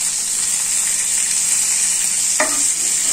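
Tilapia fish shallow-frying in a little oil gives a steady, close hiss with no break, and a brief scrape or clink from a utensil comes near the end.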